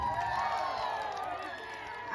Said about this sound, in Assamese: এটা হাত চাপৰি অকল আপোনালোকৰ কাৰণে